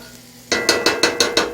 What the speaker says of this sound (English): See that little sizzle right there?